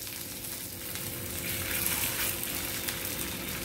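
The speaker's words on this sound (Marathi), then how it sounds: "ह्यांना शॅलो फ्राय करून घेणार आहे." Barnyard millet and potato tikki shallow fry in hot oil, giving a steady, close sizzle and crackle that swells slightly partway through, with no voices.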